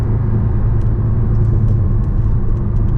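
A car engine holds a steady, loud rumble under throttle, revved while the brake is held, without pause and with no voices.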